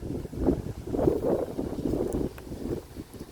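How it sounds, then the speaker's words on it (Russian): Strong wind at Lake Seliger buffets the microphone in loud, gusting low rumbles that rise and fall over a few seconds, with no voices. "Ветер поднялся. На Селигере бывает сильный ветер."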